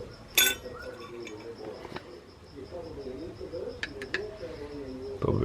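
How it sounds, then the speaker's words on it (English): Metal locking collars are dropped into place, giving a few sharp clinks over a quiet room with a faint high electrical whine, and a couple of lighter taps follow. "Drop these locking collars in."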